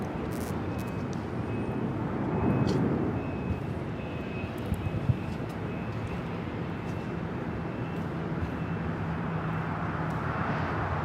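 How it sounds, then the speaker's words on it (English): A China Airlines Airbus A350-900 takes off at LAX, a steady, broad engine roar holding at even strength throughout, swelling slightly partway through, with no voices over it. "This is China Airlines Flight 5 taking off to Taipei on the A350 900."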